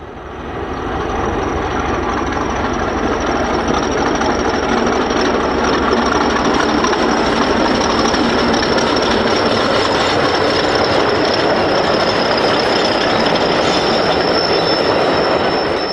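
A British Railways Class 40 diesel locomotive runs past with steady, continuous rail noise, wheel squeal and rolling clatter, loud and close throughout with no voices.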